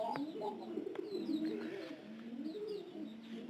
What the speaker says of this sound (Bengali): কবুতর লালন পালন করা শুরু করে দিয়েছি